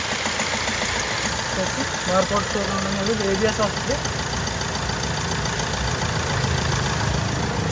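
A used car's engine idles steadily at close range after a single self-start, with someone talking over the continuous low rumble throughout.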